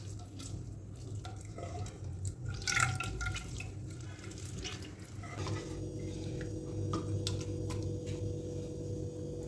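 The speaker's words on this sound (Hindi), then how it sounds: "इस तरह से हमने इसको मसल लेना है ताकि जो भी उसकी गुडनेस है सारी की सारी इस पानी में आ जाए" Hair-growth ingredients get squeezed and mashed by hand in a bowl of water, giving soft irregular drips, squelches and light splashes over a low steady hum.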